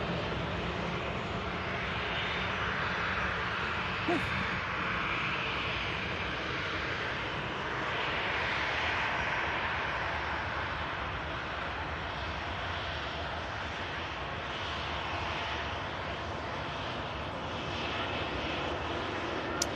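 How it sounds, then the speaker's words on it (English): A Ryanair Boeing 737 with CFM engines and retrofitted scimitar winglets rolls off the runway at Manchester Airport, a steady broad roar of jet engines holding at even loudness throughout, with no voices. "Vacating the Ryanair 737 with the classic CFM engines there."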